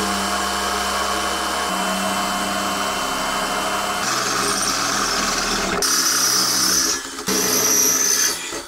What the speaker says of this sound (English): So now I'm just gonna try to drill them all